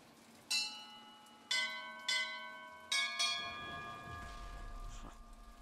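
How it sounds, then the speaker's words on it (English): Bells ring in the video game Bioshock Infinite, with five distinct clear strikes at uneven intervals, each leaving a long shimmering tonal decay, followed by a low rumble toward the end. "there's some bells here"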